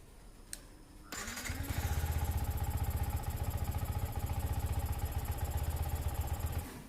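A motorcycle engine is started on a 12.5-volt battery: after a brief quiet moment and a click, it catches and settles into a loud, steady, throbbing idle close by, then eases off slightly at the end.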